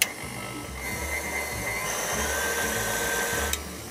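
A kitchen mixer beats butter and icing sugar for a galette des rois filling, its motor whirring steadily with a rhythmic churning pulse, close and continuous, ending with a brief clack.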